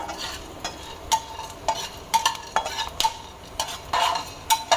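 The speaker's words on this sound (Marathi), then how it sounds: "मंद आचेवरतीच हा मसाला आपल्याला भाजायचा आहे" Gravy masala roasting over a low flame, a soft steady sizzle broken by repeated scraping stirs of a spoon against the pan, close and moderately loud with no talking.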